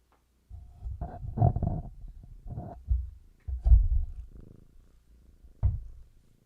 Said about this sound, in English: You gonna listen to this thing purr?